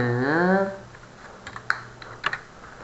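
Keyboard keys are tapped during Excel formula entry, including a Tab press, giving a few faint, scattered clicks after a brief stretch of speech at the start.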